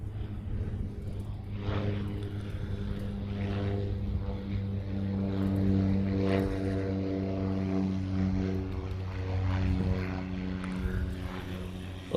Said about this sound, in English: I thought I saw a Cessna out there somewhere.